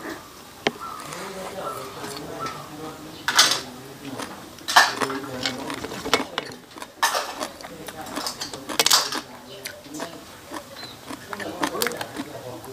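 Papaya salad (som tam) pounded in a mortar at home, a series of irregular sharp knocks and clatters, some close and loud, with someone talking throughout.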